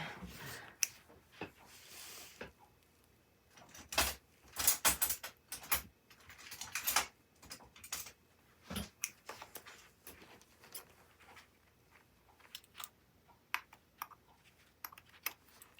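Scissors snip through watercolour paper in irregular bursts of crisp cuts, close up, with quiet pauses between clusters of snips.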